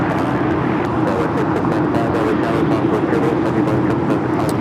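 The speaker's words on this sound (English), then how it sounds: "we have an American 777-200 ER now rolling" A jet airliner taking off at LAX, a sustained loud engine roar with broad rumble that holds steady throughout, with a voice talking over it.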